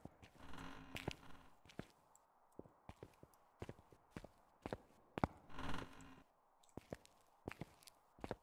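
Footsteps in the ghost-hunting video game Phasmophobia, a steady series of hard, close thuds walking at a regular pace with some rustle between steps and no talking.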